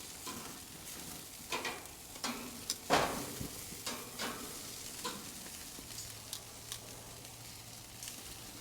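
Carne asada and chicken wings cook on a six-burner Monument Grills gas grill with a soft, fairly quiet sizzle, broken by scattered tong clicks and one louder clatter early on.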